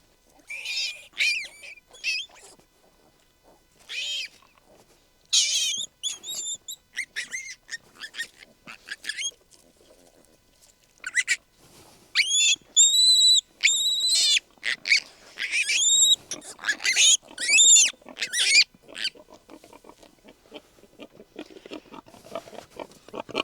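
Newborn piglets squeal in sharp, high-pitched bursts as a farmer scoops them up to move them from the sow's nest. The cries come in uneven clusters with brief quiet gaps, close and loud.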